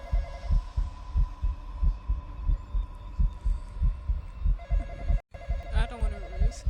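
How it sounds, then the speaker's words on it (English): A telephone rings repeatedly inside a video game, its bell tones repeating steadily over a pulsing, throbbing low rumble and hum, loud and close. "I do want to go answer the phone because it's getting annoying."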